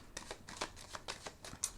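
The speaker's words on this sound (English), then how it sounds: "I'm going to do one more shuffle and one more rifle." Soft, close tarot card shuffling with a quick series of papery riffles and flicks, quiet and alone.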